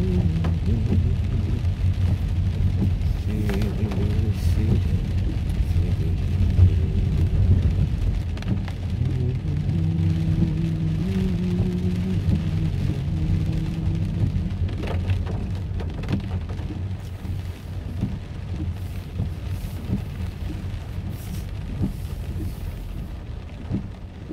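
Autumn rain falls steadily in a mountain valley, a constant loud hiss of drops with low rumbling underneath and some fainter tonal sounds partway through.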